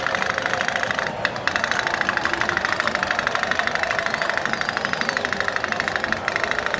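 An otok-otok toy boat engine putters in a race, a loud, continuous rapid rattling pulse with a bright metallic buzz, close and steady throughout with brief dips in between.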